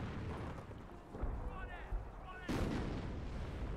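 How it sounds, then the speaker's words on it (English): Hummel self-propelled artillery fires in a Company of Heroes (original game) 2v2 match, with heavy booms near the start and again about two-thirds through over a continuous rumbling battle din. "Hummel firing yet again."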